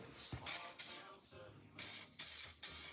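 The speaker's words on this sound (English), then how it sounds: "here's the master painter getting her sophisticated spray gun ready" Short bursts of loud, hissing paint spray from a spray gun painting a 1964 Chrysler New Yorker part, repeated several times with brief gaps between them, close by. A voice murmurs briefly in between.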